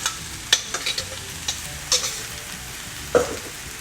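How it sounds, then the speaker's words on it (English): SPAM fried rice stirred in a pan, with soft scraping strokes and light clicks of the utensil recurring irregularly over a low, steady sizzle, moderately close. "mix it up carefully, slowly, because you don't want your rice to spill over"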